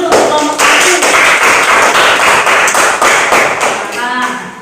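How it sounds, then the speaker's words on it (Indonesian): Classroom group applause after a group presentation in a university teacher training session, a dense burst of clapping that starts abruptly, holds loud and steady, then thins out toward the end. "Tepuk tangan dulu untuk kelompok 1."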